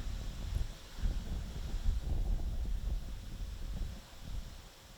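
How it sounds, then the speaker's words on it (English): Wind gusts outdoors on a disc golf course during the 2020 Foxwood Open tournament, a continuous low buffeting rumble that swells and eases in uneven pulses, with no voices. "letting that wind gust drop down"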